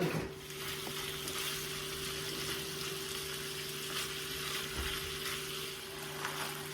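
Italian sausage cooks in a pan, making a steady, low, even sizzle that carries on throughout with no voices.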